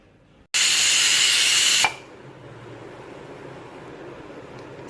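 A pressure cooker whistle releases steam in a loud, sharp hiss lasting just over a second, then drops to a softer lingering rush of venting.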